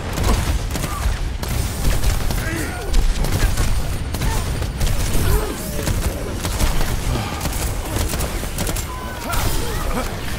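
Dense, continuous gunfire and explosive bursts from a PC match of Overwatch 2 clatter loudly throughout, heavy and chaotic, with players' voices talking over the fight.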